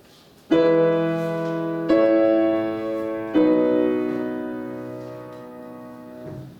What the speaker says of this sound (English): let me go to the piano and play these